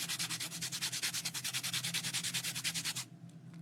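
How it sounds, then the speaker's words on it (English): Fine-grit sandpaper rubs back and forth over a painted surface in a steady, quick rhythm of scratchy strokes, close and clear for about three seconds, then stops. "with some sanding paper, fine grit, I'm gonna"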